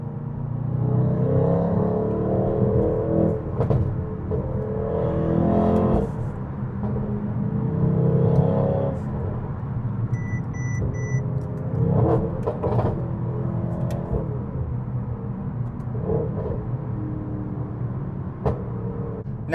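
A Mercedes-AMG GT 63 S driving on the road gives a steady, continuous low engine rumble with tyre and road noise, rising slightly in places as it accelerates, with no talk.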